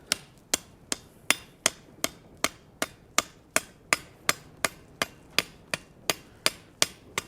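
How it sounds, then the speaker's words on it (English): Evenly spaced strikes from a lightweight hammer forging a small steel latch, about two blows per second, sharp, close and ringing, with no talk. "Again, using a really lightweight hammer here to make this possible."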